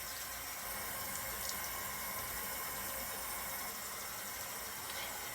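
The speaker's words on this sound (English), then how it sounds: "I'm putting water on my face, right? Rinse that rag out." Warm water runs from a tap while a face is rinsed in a morning face-care routine, a faint, continuous hissing stream with no break.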